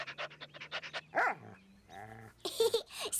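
A cartoon dog in an animated French children's show barks and pants in a short excited burst, with a few yips and a whimpery tone between brief stretches of character dialogue.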